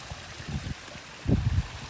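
Water from a pump spilling over a DIY koi pond waterfall in Florida, gurgling and splashing in uneven low bursts, with a louder surge near the end.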